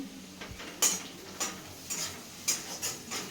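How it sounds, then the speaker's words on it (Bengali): Onion frying in a pan in a home kitchen, heard as quiet, intermittent scrapes and taps of a stirring utensil every half second or so over a faint, low sizzle. "এই যে এখানে পেঁয়াজটা ভাজছি"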